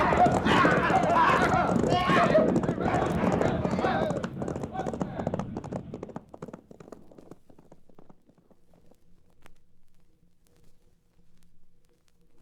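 Horses gallop away in a frontier western radio drama, a dense rush of hoofbeats under shouting voices that thins out and fades into faint, sparse clopping as the riders recede.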